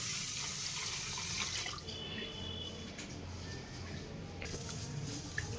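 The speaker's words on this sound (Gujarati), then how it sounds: "ચોખાને ને અડદની દાળને બે પાણીએ ધોઈ નાખીએ આપણે" Rice and urad dal are washed in water for dhokla batter, a soft continuous sloshing and trickling close by that drops slightly partway through, with no one talking.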